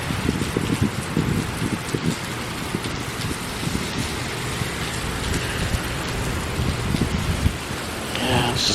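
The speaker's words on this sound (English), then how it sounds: "It's just heavy rain." Heavy rain pours steadily during a weak nighttime thunderstorm, a dense, loud hiss of drops drumming on surfaces with constant patter throughout.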